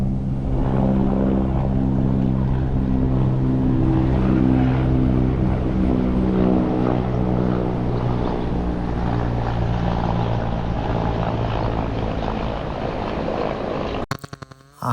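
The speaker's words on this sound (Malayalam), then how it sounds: "ഹെലികോപ്റ്റർ അവരുടെ പാട്ടിന് പോയി" A helicopter flies overhead above someone cutting a large mahogany tree. Its steady, loud, droning engine hum with a layered tonal whine persists for about fourteen seconds before a few abrupt clatters end the clip.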